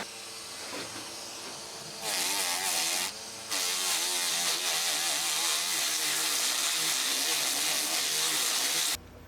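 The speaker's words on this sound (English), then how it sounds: "I'm going to sand now with this. It's a bunch of pieces of sanding paper all pinned together with a mandrel." A rotary tool set to low speed drives a flap sanding mandrel against carved wood, giving a close, steady high whine and hiss that stops briefly twice and then runs on continuously.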